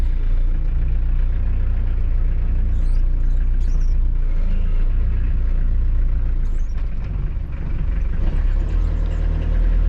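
A car engine idles steadily and close by, a loud, low rumbling drone with slight fluctuations and no talking.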